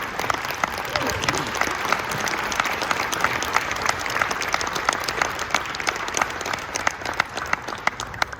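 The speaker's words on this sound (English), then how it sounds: "we should really give Riway International another round of applause" An audience gives a sustained round of applause at a leadership training event in Warsaw, dense steady clapping from a large crowd lasting throughout, with a few louder claps standing out near the end.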